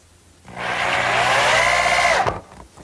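A power drill whirs up, runs steadily for about two seconds driving a screw into wood without a pilot hole, then spins down and stops.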